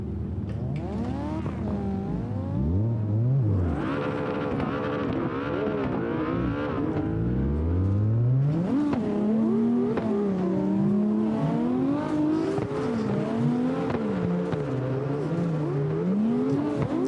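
An old Mustang in CarX, its engine revving up and down continuously while driving, with rising and falling pitch sweeps and changing throttle, loud and close with no talk.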